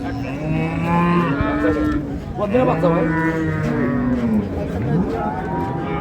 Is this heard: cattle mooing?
yes